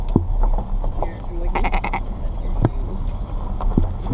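Goats at an animal safari park in West Virginia give short bleats at intervals amid outdoor background noise, with a few scattered calls near and farther off.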